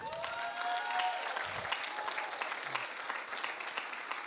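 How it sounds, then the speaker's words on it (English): Sustained applause from the audience at the closing session of an international conference on girls' education, a moderate, even clatter of many hands in a large hall without speech. "So a round of applause to our young people."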